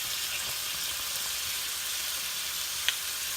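Garlic and ginger paste sizzles in a hot pan while lunch is cooked. The frying hiss is steady and fairly loud throughout, with one brief sharp tick near the end and no talking.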